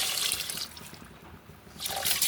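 Water pours into a pot of washed rice, half a kilo, in a South Indian kitchen, a steady close splashing trickle that thins midway and swells again toward the end.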